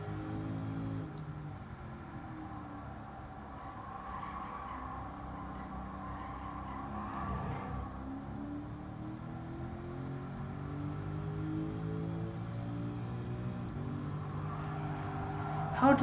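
A race car in Gran Turismo 7 drones on as it accelerates, with a steady engine tone whose pitch rises and falls through gear changes, holding at a moderate level the whole time.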